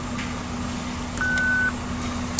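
A card payment terminal at a drive-through counter gives a single steady electronic beep lasting about half a second, clear but modest over a constant low engine hum.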